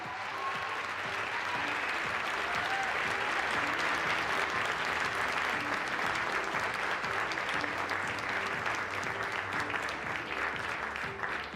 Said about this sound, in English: Let's give Caitlin another big round of applause.